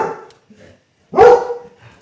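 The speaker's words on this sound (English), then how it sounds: "now my dog's barking" A single sharp dog bark rings out close by, preceded by faint bits of a voice and followed by a quiet trailing sound.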